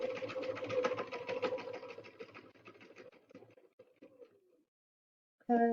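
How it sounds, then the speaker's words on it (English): A sewing machine runs steadily as it stitches around the corner of a fabric face mask, then slows and trails off into silence before a short burst of stitching starts again at the end. "I am cutting, sewing, and turning my corner So I'm pivoting on that needle that's down, going a little faster"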